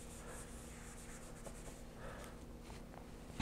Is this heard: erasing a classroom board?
yes